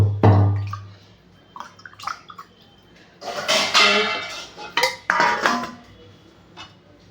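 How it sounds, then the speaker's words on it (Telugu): A plate is wetted with water in a home kitchen while making foxtail millet moong dal, with scattered dish and cutlery clinks and short splashy washing bursts, close by and intermittent, between quieter pauses. "ప్లేట్ తడి చేసుకోవాలన్నమాట"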